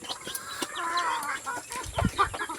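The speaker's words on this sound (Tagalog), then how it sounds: "Yan o, yung mga manok, kumakain din dyan." Chickens cluck and murmur nearby, with short scattered calls and soft pecking sounds over a quiet farmyard background.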